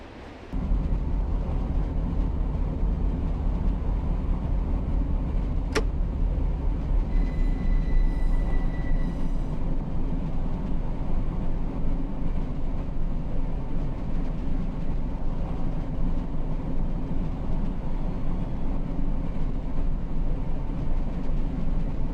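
Continuous low rumble of a train rolling along the tracks in the Run 8 train simulator, with a sharp click and a brief tonal squeal early on, steady and unbroken.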